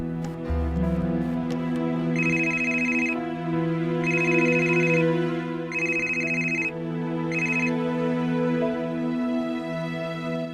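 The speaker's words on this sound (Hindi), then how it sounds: "वीरेंद्र, बोलो, इतनी रात फोन किया?" A telephone rings in repeated electronic bursts over a sustained musical background, loud and close, four rings in steady rhythm.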